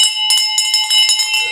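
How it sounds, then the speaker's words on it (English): A bell rung in celebration of a closed real estate deal, several bright metallic strikes in quick succession with sustained ringing tones, close and loud. "Bell, you want to ring that?"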